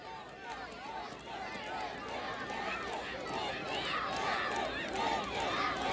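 Spectators at an under-18 college football final's penalty shootout raise a loud, sustained crowd roar of cheering and shouting with dense overlapping voices throughout.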